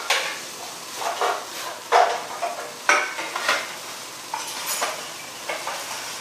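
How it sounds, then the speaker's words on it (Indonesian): A pot of boiling water on the stove as bougainvillea flowers are stirred in to make an organic bactericide, with scattered clinks and scrapes of utensils against the pot over a soft bubbling hiss. "setelah mendidih seperti ini, masukkan bunga kembang kertasnya."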